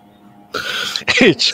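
A single throat clearing followed by a short burst of coughing, close and loud after a quiet start.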